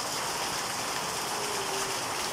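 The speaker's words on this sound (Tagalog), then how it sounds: "Napakalakas ng ulan" Heavy rain from Typhoon Enteng falls in a constant, even wash of noise, fairly soft in level and uninterrupted, without any talking.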